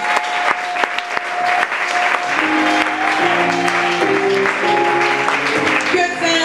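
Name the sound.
congregation applauding for the Lord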